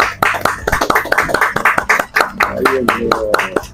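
Studio audience at a live broadcast giving a farewell round of applause: a dozen or so distinct claps in an uneven rhythm, close and fairly loud, with a voice speaking briefly near the end.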